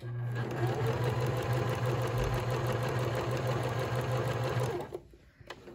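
A sewing machine stitches fabric for a flat iron case with a close, loud, continuous hum and whir that lasts nearly five seconds, then stops and leaves faint handling noise.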